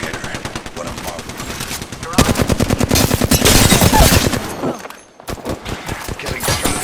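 Loud, rapid gunfire from an Apex Legends firefight, dense automatic bursts rattling almost nonstop, briefly cutting out near the end before resuming, with game voice lines mixed underneath.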